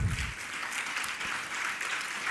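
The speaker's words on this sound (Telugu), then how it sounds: "చప్పట్లతో దేవుని స్తుతిద్దాం." A church congregation claps together in praise, a dense continuous burst of applause that fills the room, close and loud with no talking over it.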